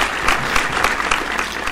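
Brief burst of applause for the winner of a German online quiz challenge, dense, fairly loud clapping from a small group, steady for under two seconds.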